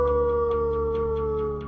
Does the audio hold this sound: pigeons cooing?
no